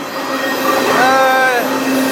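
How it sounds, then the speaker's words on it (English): A fast freight train runs through a town at about 60 miles an hour, with close, loud rumbling and high wheel squeal rising in the middle of the stretch. "This train is really moving through here. It's got to be going about 60 miles an hour."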